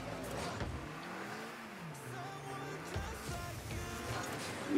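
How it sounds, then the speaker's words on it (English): Car in a game pulling a drifting U-turn, with the engine revving and its pitch sliding down and back up over a steady broadband rush, loud and close throughout. "You gotta like U-turn, like drift U-turn"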